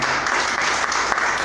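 A church congregation applauds during a service, a dense, even wash of clapping that holds steady through a brief moment without any other sound standing out.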